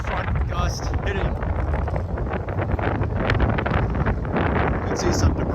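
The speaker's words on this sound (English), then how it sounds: "Major front gust hitting." Strong wind gusts during an intense windstorm with light rain, roaring and buffeting against the microphone in a dense, continuous rush with rustling bursts, close and loud.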